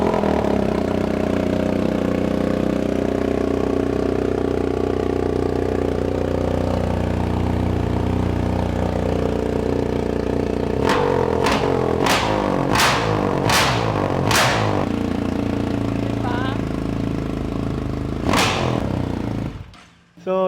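A motorcycle engine runs steadily at a low idle, loud and close, and then blips through a rapid series of sharp revs. A few more revs follow before the engine cuts off at the end.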